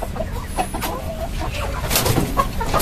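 KUB chickens, breeding hens and roosters, cluck and murmur steadily in a backyard coop, with several birds calling at once in a close, continuous flock chatter.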